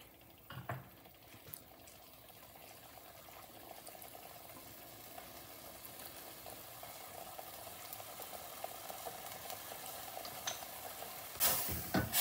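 Soya granule keema fries in oil in a pan with a faint, steady bubbling sizzle that grows slightly louder, marked by a few soft stirring knocks.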